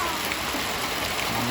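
Heavy rainwater rushes through a flooded parking area during a downpour, a steady close wash of hiss and splashing with no pause.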